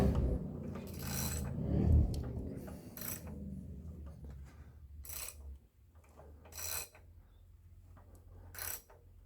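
A PT Cruiser engine turned over by hand to line up its timing belt, with intermittent mechanical ratcheting clicks and rattles, close by and moderately loud, separated by quieter low rumbling.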